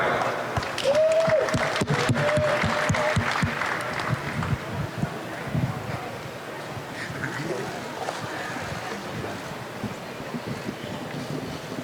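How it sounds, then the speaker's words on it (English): At the Mayweather vs McGregor post-fight press conference, a room applauds for Dana White, the clapping strongest early, then fading under a background of voices and noisy room hubbub. "Give a big round of applause for Dana White"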